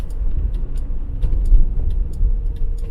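A Ford Cortina car being driven, with a continuous low engine and road rumble heard from inside, steady and moderately loud with slight swells and no talking.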